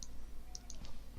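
Several soft, quick keystrokes tap on a computer keyboard while typing a short Linux command, faint clicks spaced unevenly over a quiet background.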